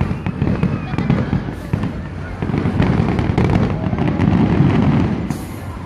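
Fireworks exploding over the Stampede grounds, a dense run of booms and crackling bursts rolling continuously with a thick low rumble, while spectators exclaim and cheer in between.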